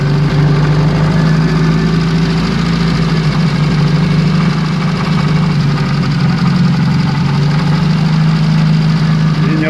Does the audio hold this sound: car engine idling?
yes